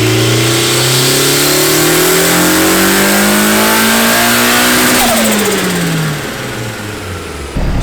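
A turbocharged Nissan 240SX running about 15 psi of boost revs hard on a dyno pull: a loud, sustained engine note climbs steadily in pitch for several seconds, then falls away as the throttle lifts.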